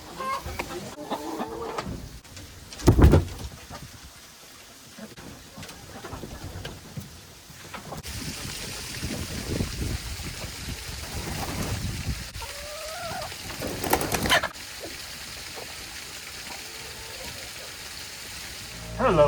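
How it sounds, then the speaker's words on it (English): Chickens cluck and call on and off around a coop, with a few sharp loud squawks and a person talking at times over a rustling background. "I think I'm spooking the chickens."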